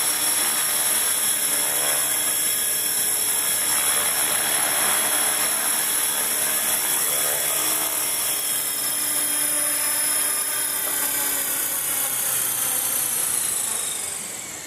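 Husler 450 clone RC helicopter flying at night, a steady high-pitched whine of motor and rotors held for the whole stretch, loud and close, easing slightly at the end without talk.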